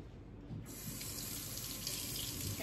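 Tap water runs into a sink as basil leaves are rinsed, a steady close hiss that swells louder after a brief quieter start.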